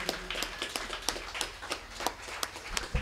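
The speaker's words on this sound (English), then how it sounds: "So round of applause for Katie." Applause from a small live-music audience at a show in Cedar Falls, Iowa, scattered claps with a few sharper hits rising and falling through the whole stretch, moderately loud, with no talk over it.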